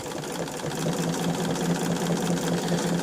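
A sewing machine quilts wavy crosshatch lines, running at a steady fast rate with a continuous close hum and a fine rapid stitching patter, loud and without pause.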